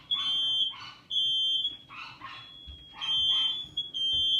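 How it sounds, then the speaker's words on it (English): A home smoke alarm shrills in long piercing tones, repeated several times, while a dog barks loudly and repeatedly nearby. "Smoke alarms going off."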